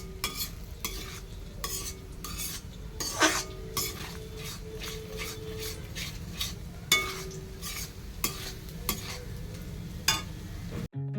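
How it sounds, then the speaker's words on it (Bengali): Egg frying in a pan for a mixed fried rice, with a soft sizzle beneath repeated scraping and clinking stirs of a utensil against the pan, close up, rhythmic and busy throughout. "এখানে আমি ডিমটা একটু ভেজে নিচ্ছি"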